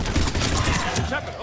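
A quick burst of gunfire rattles out at close range in the video game Mass Effect 3, several rapid shots packed into a second and a half, with a voice partly over it.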